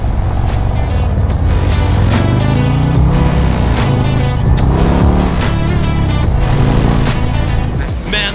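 Harley-Davidson motorcycle with a 135ci crate motor accelerating at full throttle, a loud, close engine roar climbing through repeated rising revs and gear changes.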